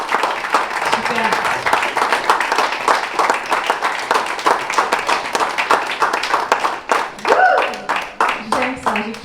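Audience applauding at a talk, a dense burst of hand claps that swells and then thins into scattered clapping, with voices speaking over it.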